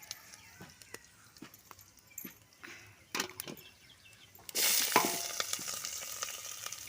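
Onions drop into hot oil already holding fenugreek, mustard seeds and cumin: a few scattered taps and light stirring, then a sudden loud sizzle that keeps crackling to the end.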